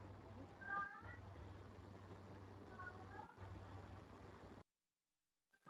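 Cats meow indoors in two short calls, faint against a steady low hum and broadband noise, with a brief silent dropout near the end.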